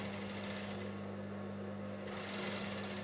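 A sewing machine runs steadily while stitching a katori blouse, with a continuous close mechanical whir and a steady rhythm through the whole stretch and no talking.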